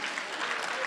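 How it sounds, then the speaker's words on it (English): Audience applause for panelists at the close of a legislative leaders panel, a steady dense wash of many hands clapping throughout the short moment, fairly loud and even. "Big round of applause for all our panelists today."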